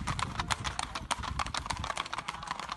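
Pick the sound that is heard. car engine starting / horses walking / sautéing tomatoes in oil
horses walking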